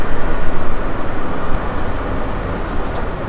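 A metro train pulls into a station at Doha airport, a loud, steady broadband rumble and rush of wheels and motor that stays close throughout with slight swells, no voices over it.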